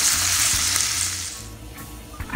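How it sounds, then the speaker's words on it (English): Bottle gourd (upo) sizzles as it is sautéed and stirred in a pan, a loud steady frying hiss with low scraping stirs, fading somewhat toward the end. "At pwede na po natin isunod ang upo. Mix lang po natin."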